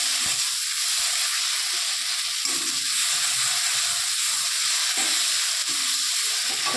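Spices being fried down in a pan for an egg curry, a steady broadband sizzle and hiss running continuously throughout, with occasional soft clinks and stirring knocks underneath.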